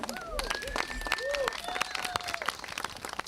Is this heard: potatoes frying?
no